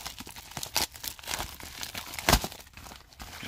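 A Pokémon card pack is torn open by hand, giving close, faint crinkling and ripping of foil wrapper in several short bursts, with one sharper tear near the end.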